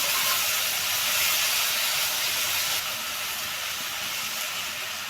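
Water poured into a hot pan of green chilli and ginger paste for Bengali-style matar paneer sets off a loud, steady hiss that carries on without a break for five seconds, close by and with nobody talking.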